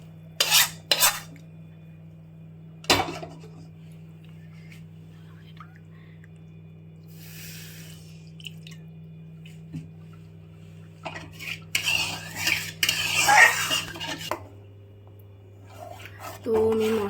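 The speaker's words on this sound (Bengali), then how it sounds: "এবার নাড়ছি একটু ভালো করে" A spoon knocks and scrapes around a metal pot of spiced khichuri in a few short clattering bursts, separated by long quiet stretches over a low steady hum.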